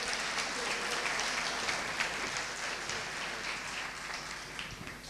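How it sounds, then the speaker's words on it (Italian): An audience in a prison hall during a nativity-scene event applauds, a continuous hiss-like roar of many hands blending into an even, moderately quiet texture that holds steady to the end. "E sull'applauso anche voi"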